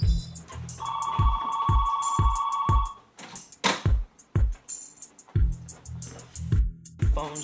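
A telephone rings with a repeated electronic trill in short bursts near the start, amid clattering knocks and thumps, with a voice talking later.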